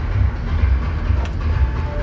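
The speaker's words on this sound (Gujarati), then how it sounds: "તો અહીંયા મોડી પહોંચી છે આપણી ટ્રેન" Yoga Express passenger train rolling through Palanpur station, a loud steady low rumble and rattle of wagons on the rails, close by and continuous, with no voices.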